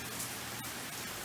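Hard rain pours down outside in a steady, loud wash of noise, with a few sharper drop impacts standing out against the constant hiss.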